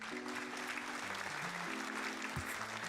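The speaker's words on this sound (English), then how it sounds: "Thank you for the applause." Steady applause, a continuous wash of many hands clapping, with a low tonal sound humming beneath it.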